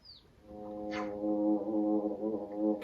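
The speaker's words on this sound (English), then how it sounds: "Anyone else hear wings? That sounds like a bee." Beating wings in Xenoblade Chronicles 3 make a bee-like buzz: a low, steady droning hum that swells in after half a second and holds for about two seconds, with a couple of brief higher chirps.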